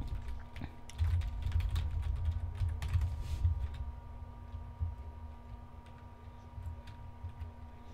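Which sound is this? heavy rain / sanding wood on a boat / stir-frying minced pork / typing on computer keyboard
typing on computer keyboard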